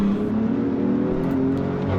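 A BMW M4 track car's engine drones steadily at high revs, loud and close, with a continuous harmonic roar and no pauses on a large go-kart circuit.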